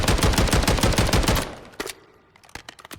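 Automatic fire from a Remington ACR 6.8 rifle in Call of Duty Modern Warfare III, a rapid, loud burst of shots for about a second and a half, then a few scattered single reports and clicks as it dies down.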